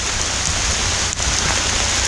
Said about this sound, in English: We just got through the lock before this real downpour opened up.